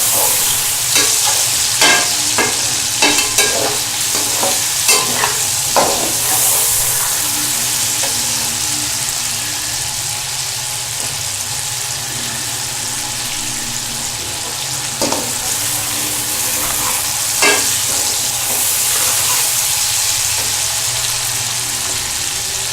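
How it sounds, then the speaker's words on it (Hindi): Chicken liver and gizzards sizzle and hiss steadily in a hot pan, with occasional clinks and scrapes of a spoon stirring. "कलेजी जल्दी से गल जाती है फ्राइंग के दौरान"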